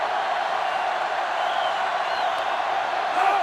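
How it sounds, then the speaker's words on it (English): A stadium crowd in the NCAA Football 06 video game roars in a steady, dense wash of cheering and shouting, loud throughout with faint whoops rising near the end. "this crowd is going absolutely insane"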